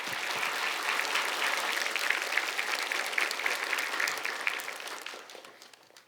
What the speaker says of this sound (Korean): 목사님 나오실 때 주님을 기대하는 마음으로 그리고 따뜻한 환영의 박수로 맞이하겠습니다